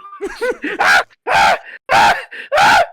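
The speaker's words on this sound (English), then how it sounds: "like after each stab there's a scream" Screams from a tabletop horror game session set in a bayou, a series of loud, close, anguished vocal cries in four or five strong bursts with short gaps, produced by a voice performing them.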